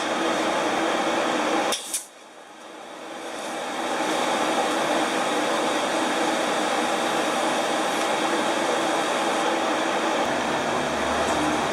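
Tack welding on motorcycle parts clamped flat, for a Brixton BX125: a steady, loud buzzing crackle of the arc running throughout, broken by one brief pause near the start before resuming at full strength.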